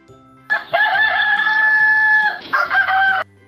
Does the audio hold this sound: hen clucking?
yes